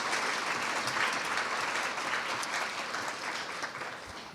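A room of people applauds the faculty at an anniversary celebration, a dense, steady round of clapping that holds evenly before easing slightly at the end.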